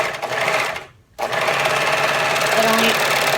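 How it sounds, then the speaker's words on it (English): A sewing machine stitching elastic on a mesh-panel bodycon dress, running in a steady close whir that pauses once briefly, then continues under someone talking. "trying to talk while I'm sewing"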